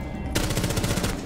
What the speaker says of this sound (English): Do you want to start putting some pressure on that, Jim? Free fire there, love.